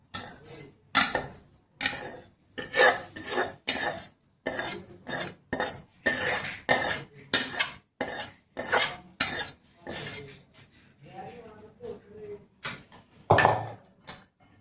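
A spoon stirs cooled oil into spice masala for mango pickle, giving a run of sharp, close metallic scrapes and clinks against the pot in a quick, uneven rhythm with brief pauses.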